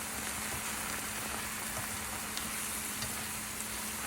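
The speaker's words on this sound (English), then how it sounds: "sauteed our garlic, onion, and tomato. Added fish sauce" Garlic, onion and tomato sautéing in a pan for a home-made Filipino dish, a dense, even crackling sizzle like light rain, fairly quiet and steady with faint occasional clicks, no talking.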